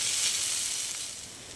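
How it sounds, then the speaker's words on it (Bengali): Kulfi sag greens frying slowly in a pan for a Bengali recipe, giving a steady soft sizzle and hiss that holds evenly and eases slightly toward the end, with no voices. "তাই আমি একদম অল্প আছে আস্তে আস্তে ভেজে নেবো শাকটা"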